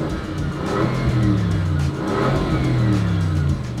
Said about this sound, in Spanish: Vamos a tocar un poquito el gas ya con el coche caliente para que escuchéis el motor redondo V8 de este Continental